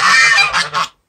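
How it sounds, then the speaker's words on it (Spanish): Geese on a farm property in Loma de Cabrera, Dajabón, Dominican Republic, give a close, loud run of nasal honks: one long call, then two shorter ones, followed by silence. "algunos gansos."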